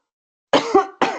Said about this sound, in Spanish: me dio un ataque de tos